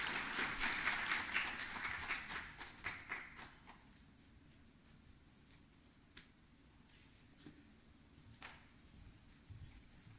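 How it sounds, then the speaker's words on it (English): Scattered audience clapping at the Africa Development Impact Forum, fairly close and sharp for about three seconds, then thinning to a few isolated claps in a quiet room. "Please give him a resounding round of applause as he takes the floor"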